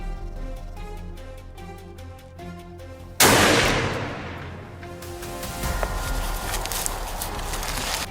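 A single sharp rifle shot cracks out mid-scene at a charging wild boar, loud and close, with a ringing decay that fades into rustling movement after a stretch of steady background music.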